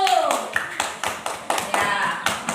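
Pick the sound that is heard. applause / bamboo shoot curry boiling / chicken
applause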